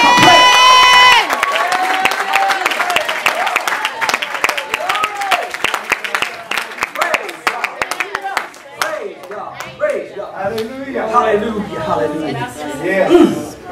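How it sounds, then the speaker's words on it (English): A church congregation at a bilingual service claps and cheers in praise, a rapid burst of close applause with shouts, followed by excited voices and chatter from the crowd. "Let's give him a hand clap of praise."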